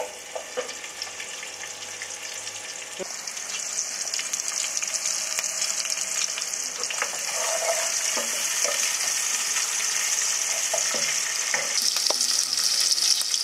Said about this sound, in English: as the oil starts heating up, we add the onion inside and start to fry.